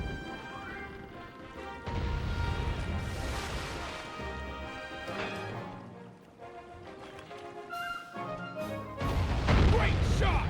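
Heavy booming blasts and crashes of ship cannon fire in Sly 3: Honor Among Thieves burst out repeatedly over layered music and game sounds, loudest toward the end.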